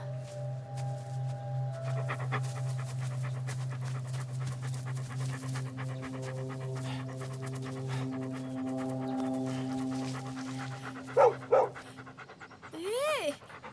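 A dog pants in quick rhythmic bursts, close and fairly quiet, with a tonal hum running underneath and a few brief squeaky sounds near the end.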